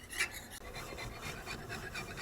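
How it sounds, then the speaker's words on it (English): Steel wool rubbing across the wooden stock of a No.4 Mk 1 rifle during refinishing, a quiet continuous rasping scrub with rhythmic strokes and no talk. "And just hit it with steel wool."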